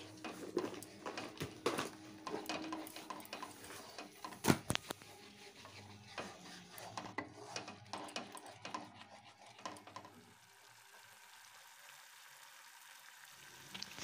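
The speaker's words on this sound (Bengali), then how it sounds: "মশলাটা আরও কিছুক্ষণ আমি একটু কষিয়ে নিচ্ছি" Spice paste for cauliflower rezala frying and being stirred in a pan, faint sizzling with scattered scrapes and clinks of a spoon, a louder knock near the middle, fading to quieter hiss at the end.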